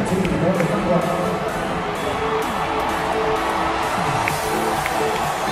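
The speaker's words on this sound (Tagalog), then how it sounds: "The crowd is roaring." A basketball arena crowd at a Ginebra vs San Miguel semi-finals game roars and cheers in a steady, dense wash of voices, with a nearby person talking over the din.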